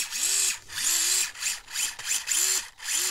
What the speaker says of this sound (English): The motor makes an interesting noise. It's not high pitched and whiny like the Komodo motors are,